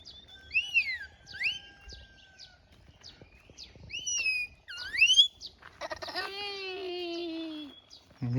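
A person imitates bird calls outdoors on a hill stay during a North Bengal road trip, giving a series of rising and falling whistled chirps and warbles, then a longer wavering cry, loud and close with brief gaps.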